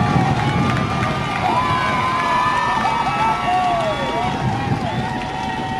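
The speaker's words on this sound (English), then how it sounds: "And a little foot thunder from the Glendale crowd." Glendale fans stomping their feet on the bleachers at the 2012 OSAA 2A/1A state softball championship make a constant rumbling drum, mixed with crowd cheering, whistles and talking.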